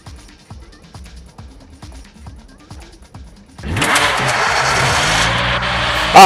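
Car engine driving in Knives Out, a battle-royale video game, starting suddenly partway through as a loud, steady broadband rumble that holds to the end, after quieter rhythmic footsteps and game sounds.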